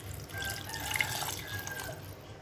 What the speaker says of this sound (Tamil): இப்போ இதில் வந்து நம்ம தேவைக்கு ஏற்ப தண்ணி சேர்த்துக்குவோம்